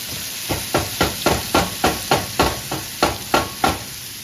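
Steak bites frying in a pan with garlic and butter, tossed in a quick regular rhythm of about a dozen loud sizzling scrapes over a constant hiss, close up with no voices.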